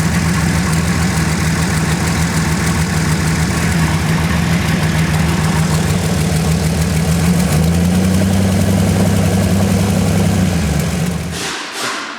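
A car engine idles steadily and close by with a low, even rumble and constant vibration, the pitch shifting slightly near the end before cutting off abruptly.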